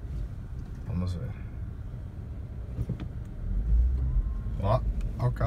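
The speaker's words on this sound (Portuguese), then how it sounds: "Ó, ó o carro saindo de lá." An old Infiniti car pulls away from a snowy Atlanta street, its engine rumbling low and steady under nearby talk, growing a little louder toward the end.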